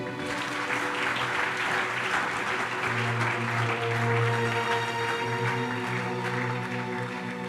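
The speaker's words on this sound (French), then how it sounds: "On acclame très fort." A church congregation applauds loudly, dense sustained clapping with music and a few cheers mixed in, continuing steadily throughout.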